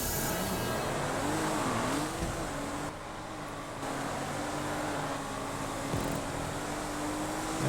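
Race car engines in GTA 5, including Shafter V12s, roaring continuously with shifting revs and pitch sweeps, a brief dip in level midway before the droning engine noise resumes, no talk.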